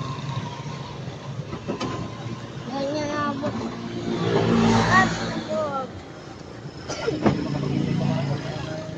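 Cars and engines pass along a busy street, rising to a louder swell in the middle and fading again, with people talking over the traffic throughout.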